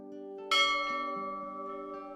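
A single bell strike rings out clearly and alone, its bright metallic onset decaying slowly into a long sustained hum over a steady drone.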